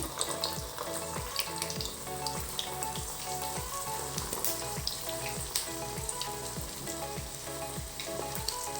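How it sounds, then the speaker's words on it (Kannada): Potato balls deep frying in hot oil, a dense continuous sizzle and bubbling heard up close and fairly quiet, steady throughout with no voices. "ಈಗ ಇದು ಮಿಕ್ಕಿದ್ದು ಎಲ್ಲದನ್ನು ಇದೇ ರೀತಿ ಫ್ರೈ ಮಾಡ್ಕೊಳ್ತಾ ಇದ್ದೀನಿ"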